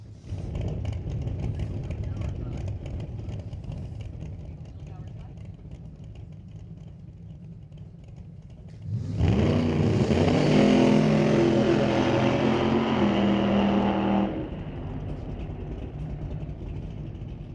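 A Willys drag race car at Mission Raceway Park blasts down the track, a loud, raw engine roar rising suddenly mid-clip, holding for several seconds, then cutting back as it comes off the gas, with commentary underneath.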